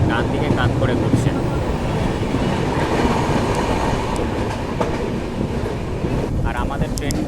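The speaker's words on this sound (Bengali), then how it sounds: "আমাদের ট্রেনটা একটা ঘন জঙ্গলের মধ্যে দিয়ে যাচ্ছে" A Garib Rath passenger train running through dense forest produces a loud, continuous rumble and rattle of wheels and carriages, with heavy wind buffeting across the microphone throughout.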